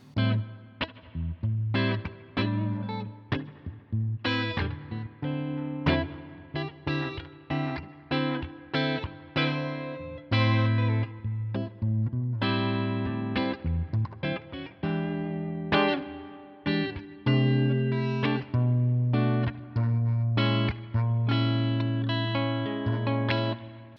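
A clean electric guitar through a Line 6 Helix 3.0 amp modeler plays a steady run of chords and single notes with a roomy reverb tail, loud and close, with no voices.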